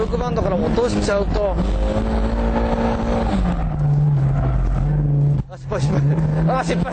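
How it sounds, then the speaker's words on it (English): Engine of a drifting car revving hard, a sustained loud drone whose pitch rises and then holds steady, with a brief dip near the end before picking up again; someone talks over it throughout. "make sure you rev it up enough to keep it up there"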